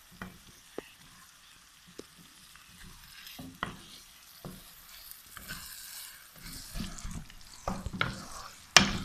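Minced meat (keema) being stirred through spices in a hot pan, with a steady sizzle of frying broken by scattered scraping clicks of the spoon, growing busier and louder toward the end, with no voices.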